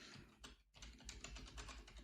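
Fingers typing a web address on a computer keyboard, a quick run of light, close key clicks with one short pause, faint and steady, with no one speaking.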